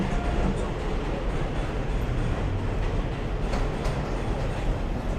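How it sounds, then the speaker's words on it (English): A number 2 subway train rolls along elevated tracks above a commercial street in Wakefield, the Bronx, a loud, steady broadband rumble that fills the whole stretch without letting up. "There's a number 2 train."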